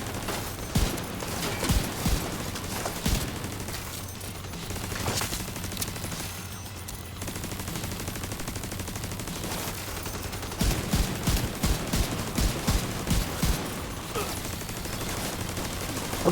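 Pistol fire in The Division 2, a shooter video game, with sharp bursts and clustered rapid shots scattered through the stretch, heaviest near the start and again toward the end, over a steady game background.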